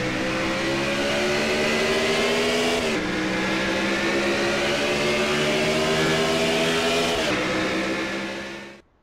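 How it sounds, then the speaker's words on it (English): The number 74 Chevrolet Silverado race truck in a NASCAR truck series video game, heard on board, with its engine droning loudly and steadily, shifting gears twice, then fading out at the end. "Now here we are on board, driving along with the number 74 Travel Silverado of James Qualls"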